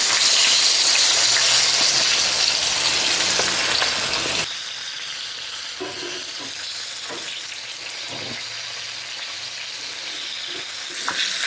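Skin-side-down pieces frying four at a time in a pan give a loud, dense sizzle that drops abruptly to a quieter, steady crackle with scattered pops and light stirring clatter, no talking.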